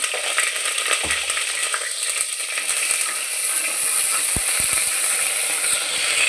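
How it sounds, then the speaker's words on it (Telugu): Onions sizzle in a pan with green chillies and tomatoes for a Muslim-style aloo kurma, a loud, dense frying hiss broken by the scrape and clatter of a spoon stirring. "ఉల్లిపాయలు వేగాయండి"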